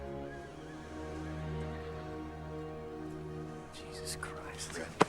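A horse whinnies in a racing film scene about jockey John Red Pollard, rising under a steady orchestral music bed with a sharp accent near the end; a voice speaks over it.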